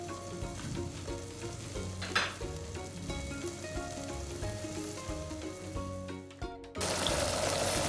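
Onion and tomato sauce with seasoning sizzling and frying in a pan for Moroccan couscous, with occasional stirring clatter and a sudden louder hiss near the end.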